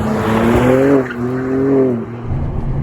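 A BMW M2's tires squeal loudly under engine roar as it oversteers in hot sun, the pitch wavering as it slides, close and continuous.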